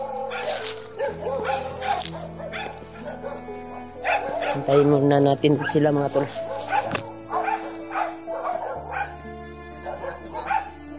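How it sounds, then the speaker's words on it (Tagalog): Several dogs bark and yip repeatedly at varying distances along a rural path, some sharp barks near and others fainter, while someone talks over them. "Daming aso dito."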